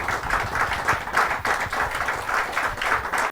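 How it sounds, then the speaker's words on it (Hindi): Audience at a Hindi kavi sammelan poetry gathering applauds to welcome a woman poet of the navgeet form, a steady moderately loud patter of clapping with a few swells, cutting off abruptly at the end. "आइए जोरदार तालियों से उनका स्वागत करते हैं।"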